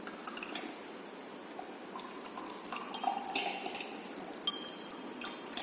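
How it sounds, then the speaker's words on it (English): Water running and splashing while a conductivity cell is rinsed in a lab, a soft continuous trickle with light drips and glassy clinks, fairly faint. "So we have to wash the conductivity cell."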